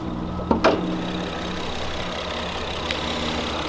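The V6 engine of a 2013 Acura RDX with AWD idles steadily at close range in a low, even hum, broken by a couple of brief clicks or knocks near the start.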